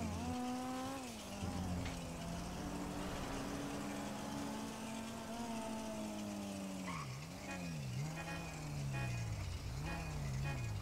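A car in the game GTA pulls up, its engine revving and changing pitch as it drives in, with a brief tire squeal near the end; the sound is fairly quiet and close.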